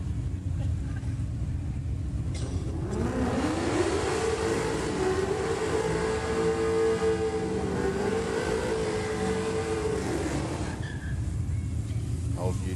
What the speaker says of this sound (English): Old utility going through the burnout procedure in the Aeroflow lane.